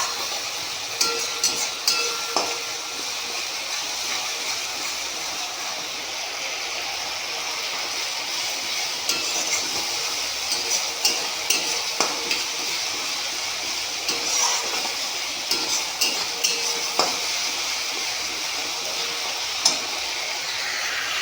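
Ginger and green chillies fry in a pan with a steady, even sizzling hiss throughout, broken by scattered soft clicks as a spoon stirs them.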